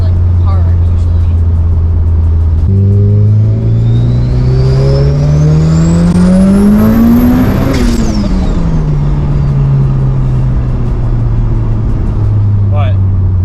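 A built Mitsubishi Evo accelerates hard, its engine note climbing steadily through the revs, then dropping at a gear change and pulling again, loud and close from inside the car.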